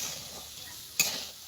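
Gobindobhog rice and mung dal fry dry in a pan with a soft, faint sizzling hiss, broken once by a single sharp clink of a utensil against the pan.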